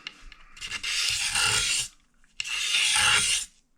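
Two long rasping strokes of finish sanding on a wooden guitar neck, each lasting over a second with a short pause between, close and clear.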